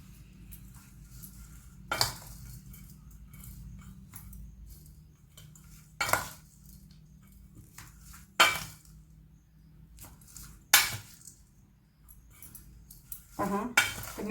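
A spoon mixes poha and cabbage with salt in a bowl, giving sharp clinks against the bowl every couple of seconds between quiet soft scraping, close by, with no speech.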